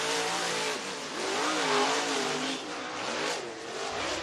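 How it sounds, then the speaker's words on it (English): Loud race car engines roar steadily on a dirt track, revving and surging as the cars pass close by, with a rising and falling whine throughout. "And both those drivers on the racetrack coming around to get the green flag from Will Dykes"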